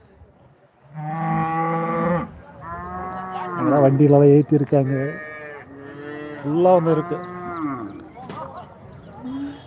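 Cattle at a cow market in Bagalur, including native cattle, buffalo, HF and Jersey cows, give several long, loud, nearby moos one after another, while a person talks briefly in the background.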